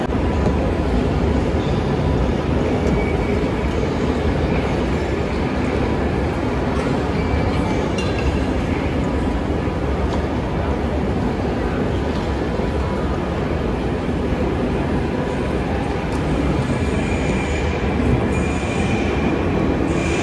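A train runs through a Berlin station, its steady loud rumble and rolling wheels filling the whole stretch, with faint metallic squeals and clinks on top and no voices.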